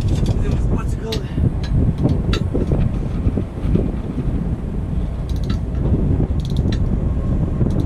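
A socket wrench ratchets on a wrecker truck during tractor-trailer towing work, with rapid mechanical clicking amid wind noise outdoors and people talking nearby.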